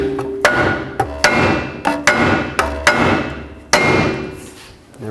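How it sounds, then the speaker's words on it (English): A hammer strikes the steering knuckle of a 2003-2021 Chevrolet Express to break it free from the upper ball joint stud: about nine loud, close metallic blows in an uneven rhythm, each with a ringing decay. "Now carefully hammer on the knuckle right here to break it free from the stud."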